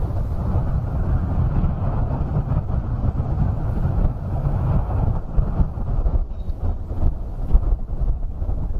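Wind blows across an outdoor disc golf course during a tournament round, a steady low rumbling buffet against the microphone that persists throughout with no voices.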